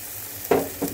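Spice-rinse water poured into frying masala for chicken roast, a short burst of sharp hissing sizzle that flares and then settles, followed by a second smaller spit, loud and close.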